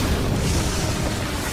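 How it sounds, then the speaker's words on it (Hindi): A cursed energy blast explodes in an anime fight, heard as a loud, continuous broadband roar that fills the whole moment without pause. "शापित शक्ति का धमाका।"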